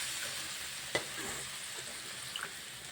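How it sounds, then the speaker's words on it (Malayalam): Chicken pieces frying in a pan for chicken curry, giving a steady soft sizzle with a couple of sharp clicks from stirring. "ഇനി നമുക്ക് ഈ ചിക്കൻ അതിനകത്ത് ഇട്ട് നമുക്ക് വേവിച്ചെടുക്കാവേ"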